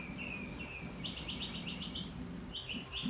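Several birds chirp in quick repeated bursts over a steady low background hum, fairly close and continuous throughout.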